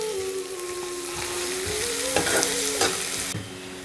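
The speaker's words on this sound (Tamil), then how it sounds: "வெங்காயம் கொஞ்சம் நல்லா செவக்க வறுக்கணும்." Onions frying in oil for a fig curry, a constant dense sizzle up close with a few spoon scrapes, a faint sustained tone running beneath.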